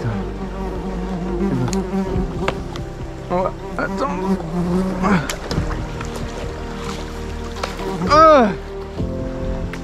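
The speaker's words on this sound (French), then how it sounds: "Et dégage la guêpe là." Wasp buzzing around a lone rower paddling through the Amazon jungle: a wavering insect drone weaves through paddle and water noise, swelling close and loud near the end, with no talk over it.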